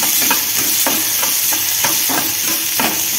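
Chopped onion sautés loudly in a pan up close, a constant crackling sizzle broken by regular stirring strokes about every half second, with no one speaking.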